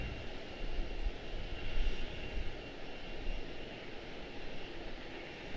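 A jet airliner's engines roar steadily at Charlotte Douglas airport, a broad, continuous rumble with a faint whine, heard from a distance with no voices.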